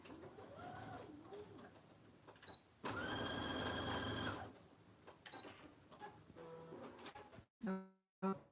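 A sewing machine back stitches the seam of an oven mitt in a brief, loud, steady burst lasting about a second and a half, framed by quieter handling sounds and a few clicks toward the end.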